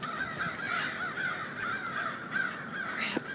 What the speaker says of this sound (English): Oh, did the crow finally leave?